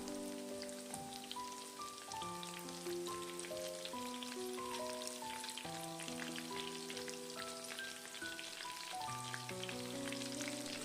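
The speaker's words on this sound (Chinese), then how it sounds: "一面炸至金黄后，再用筷子给它翻一面，" Spring rolls deep-fry in hot oil, a continuous soft crackle and sizzle with scattered pops, heard close but quietly while gentle music plays over it.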